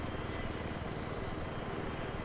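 A helicopter in Battlefield 3 beats steadily with a low, pulsing rotor thump under a continuous engine roar, moderately loud and unbroken for the whole moment.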